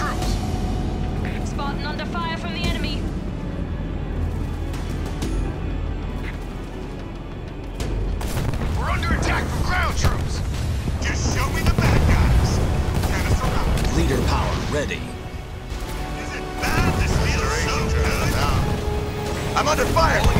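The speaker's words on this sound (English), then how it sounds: "Spartan under fire from the enemy." Gunfire and explosions in a Halo Wars 2 battle, scattered booms and cracks beneath game music and radio voice lines, growing denser in the second half.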